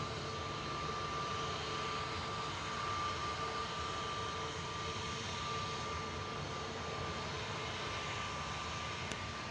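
Jet airliner departing Manchester Airport in the evening, a faint, distant, steady engine roar with a thin whine, holding level throughout without speech.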